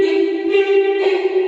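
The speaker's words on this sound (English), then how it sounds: "And then I have the actual Squid Games song as well that sounds like this." A sample of the Squid Game theme song plays inside a remix as a loud, steady sustained melodic tone with a bright, buzzy layered texture and no voices.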